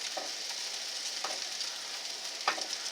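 German potato pancakes frying in a pan give a steady, close hiss of oil sizzle, with a few faint clicks or scrapes breaking through, and no talking.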